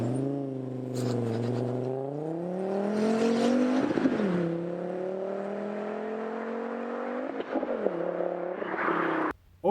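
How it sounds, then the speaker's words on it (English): Volvo C30 with a five-cylinder turbo engine and aftermarket exhaust, a loud, steady throaty drone that climbs in pitch as it accelerates, dips briefly, then pulls again before cutting off abruptly. "The engine, it's a 5-cylinder turbo. Put an exhaust on it and that thing sounds absolutely glorious."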